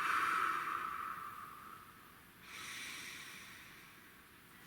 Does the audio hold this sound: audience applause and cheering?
no